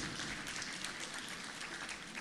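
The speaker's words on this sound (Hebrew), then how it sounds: "ומגיע להם המון מחיאות כפיים" Applause from the crowd at the 2024 graduation party of ORT Ma'ale Tiberias high school, a steady, dense wash of clapping heard from a distance at low volume.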